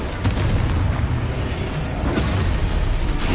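A loud, continuous rumbling blast from the Confringo fire spell in the Hogwarts video game, booming steadily for a few seconds with no speech over it.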